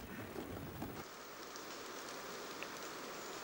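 Steady Amazon rainfall pattering on leaves and surfaces, a soft, even hiss of countless drops with no pauses, heard quietly and without voices.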